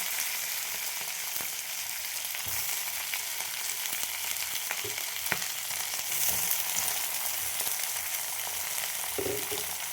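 Mixed vegetables, including raw green banana, fry steadily in a pan with a continuous close sizzle and occasional soft stirring clinks, without any talk.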